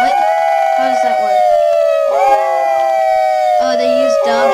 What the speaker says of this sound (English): they use dog howls for the siren